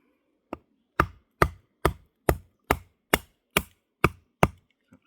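A survival knife is batoned into solid oak with a knot at the bottom, giving ten sharp, evenly spaced wooden thwacks at roughly half-second intervals, loud and close with silence between blows.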